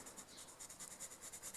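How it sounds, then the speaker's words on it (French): A colored pencil rubs back and forth across paper while filling in a mystery coloring page, giving a soft, close, continuous scratchy strokes in a quick even rhythm. "je viens par la suite colorier une fois que ma zone est délimitée"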